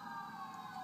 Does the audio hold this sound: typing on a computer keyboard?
no